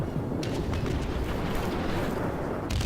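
Naval gunfire against an Iowa battleship in World of Warships, a steady roar of distant cannon booms and crackling blasts rolling together, with a few sharper reports standing out.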